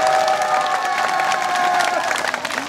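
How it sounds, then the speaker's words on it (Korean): A crowd at a Liberty Mountaineering Club gathering claps steadily and loudly, the dense applause mixed with scattered cheers and faint voices. "우리 모두를 위해서 박수 한번 쳐볼까요?"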